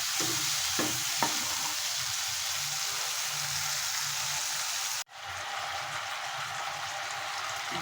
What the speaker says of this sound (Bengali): এখন আমি মশলাটাকে ভালো করে কষিয়ে নেব।